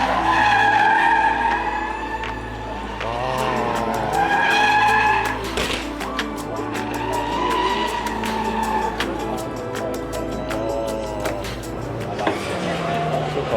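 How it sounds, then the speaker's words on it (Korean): A Hyundai Ioniq 5 N electric car drifts at Goodwood in England, its synthetic exhaust note droning and rising and falling with sustained tire squeal and skidding, loud and close throughout, with a voice talking over it. "전기차에서 자동차 배기음이 나고 있죠"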